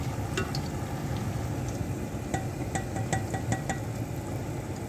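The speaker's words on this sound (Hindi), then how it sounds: "डार्क ब्राउन फ्राई करती हूँ मुझे ऐसे ही पसंद है" Food frying in oil in a pan for a home dinner gives a steady, close sizzle throughout, with a few light clinks of utensils scattered through the middle and later part.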